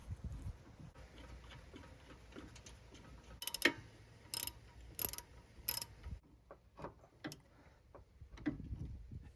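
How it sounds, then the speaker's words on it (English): Torque wrench ratcheting hub bolts tight on a Nissan Altima during rear wheel bearing replacement, giving faint rapid clicking with several sharper metallic clacks and bursts, close and otherwise quiet. "Use a torque wrench to tighten all 4 bolts to the factory-specified torque value for your particular car."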